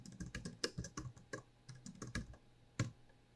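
Quick, light keystrokes on a computer keyboard as a username is entered, close and fairly quiet, in short irregular bursts with brief pauses, no talking.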